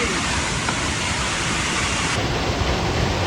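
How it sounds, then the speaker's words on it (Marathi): Heavy water pouring down a hidden waterfall near Khopoli, a dense, steady roar of falling water that fills the whole stretch without any break. "इकडून देखील पाणी पडतंय जोरदार"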